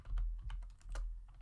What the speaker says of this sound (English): So we type the text